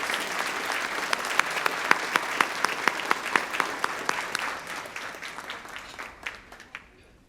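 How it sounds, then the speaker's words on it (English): Guests at a Teacher of the Year ceremony applaud the honored educators, steady crowd clapping with a rhythmic pulse of sharp claps that gradually thins and fades out. "Please join me in a round of applause for these extraordinary educators."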